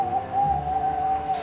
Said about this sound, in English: An owl, said Monty.